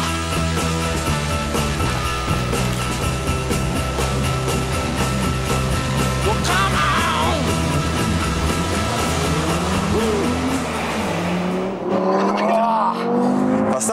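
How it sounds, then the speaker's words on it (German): An MTM-tuned Audi TT RS with 462 horsepower drives fast, its engine note loud and close with rising and falling revs and gear changes, briefly dropping off before surging again near the end. "Ein Audi TTRS, getunt von MTM. 462 PS, fast 300 Spitze."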